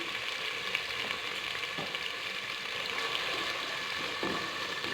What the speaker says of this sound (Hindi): अच्छे से मिक्स करके हम इनको भून लेंगे।